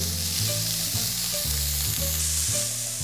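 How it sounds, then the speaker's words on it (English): Diced garlic sizzles and crackles in hot oil in a frying pan, with steady frying hiss and repeated scraping stir strokes, close and without talk. "Oil a frying pan and stir-fry diced garlic first."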